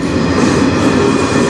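Train number 139 rolls past on the Strathroy Subdivision rail line, a loud, continuous rumble of wheels and railcars that stays close and steady throughout, with no voices.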